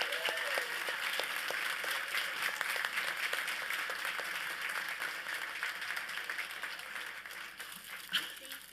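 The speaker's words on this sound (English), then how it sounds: "Would y'all give her another round of applause?" An audience at a school district State of the District event gives sustained applause, a dense steady clapping that fills the whole stretch with even loudness.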